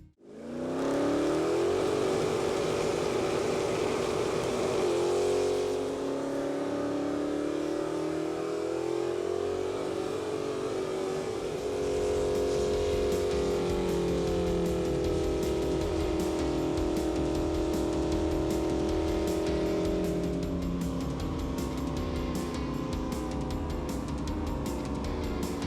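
A 1968 Dodge Charger engine runs loud and close, a thick, steady rumble that climbs in pitch early on, settles, then revs up again toward the end, with no talking.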